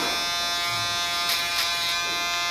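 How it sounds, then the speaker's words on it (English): Steady, close electric shaver buzz during a barber haircut, humming without a break across the whole moment with no voices over it. "I'm going to add a little bit of that shaver"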